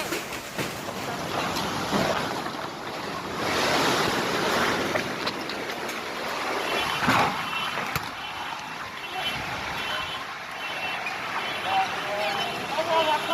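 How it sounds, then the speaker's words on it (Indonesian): Wind-driven rain during a heavy hailstorm in East Java: a steady, dense roar of gusting wind and pouring precipitation throughout, with occasional bursts of buffeting and faint voices under it. "hujan angin disertai hujan es yang cukup besar"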